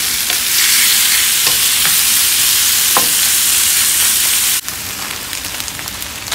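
Shrimp with garlic salt stirred in a frying pan, a loud continuous sizzle with scraping stirs, dropping suddenly quieter near the end as the heat settles.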